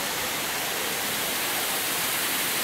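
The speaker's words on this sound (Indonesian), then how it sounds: "Ini salah satu air terjun." Steady, full-bodied rush of Sri Getuk waterfall in Gunung Kidul, Indonesia, a constant broadband roar with no pauses or voices.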